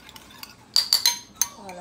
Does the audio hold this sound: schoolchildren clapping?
no